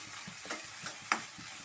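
Onions with ginger garlic paste are stirred in a pan: a soft, continuous sizzle with a few light scraping strokes, one sharper clack near the end.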